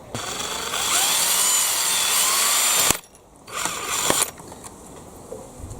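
A power drill with a 2.5mm bit boring into a plastic model van body, a steady high whine for about three seconds, then a pause and a shorter second burst, loud and close with no talk.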